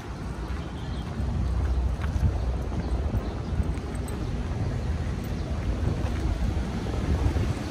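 Strong wind buffets the microphone in a continuous low roar outdoors near the Grand Lisboa in Macau, with faint water movement underneath and no talking.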